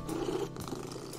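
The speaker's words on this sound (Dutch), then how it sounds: "Kat valt van de trap" A cat falling down stairs, purring briefly and close, a soft low rumbling burst that fades out within about a second.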